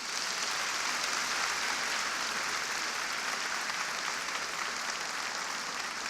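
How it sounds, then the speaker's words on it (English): An audience at a National Urban League conference gives a round of applause for the Urban League of Metropolitan St. Louis, a broad, even wash of clapping that holds steady from start to finish. "let's give Michael and the Urban League of the Metropolitan St. Louis a round of applause"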